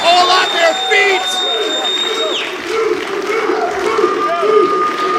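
A wrestling crowd on its feet cheers, whoops and applauds loudly at an independent wrestling show, a busy mix of shouting voices and clapping close around with a ringing tone early on.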